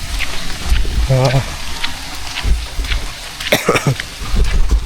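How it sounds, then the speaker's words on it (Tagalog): Rain falls steadily outdoors, a continuous hiss with heavier spatters and drips close by, while people talk intermittently over it. "Huwag lang lumakas ang ulan."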